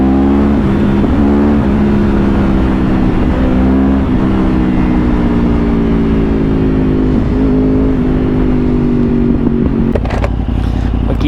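A Yamaha R1 motorcycle accelerates on the road, its loud engine drone rising steadily in pitch through the gears, constant and close throughout.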